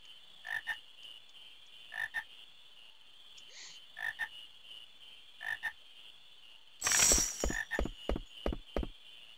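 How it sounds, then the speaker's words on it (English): Frogs croak in Final Fantasy IX, a game, in short paired bursts that repeat every second or two, followed by a louder flurry of rapid croaks near the end, heard alone without talk. "Aha, frogs."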